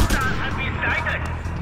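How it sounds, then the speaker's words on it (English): In Just Cause 2, a biofuel shaft explodes into sustained loud, crackling blasts and rumbling booms that overlap like gunfire and artillery, dense and continuous, with voices talking over the chaos. "If you make use of that biofuel shaft, you can cause quite an explosion."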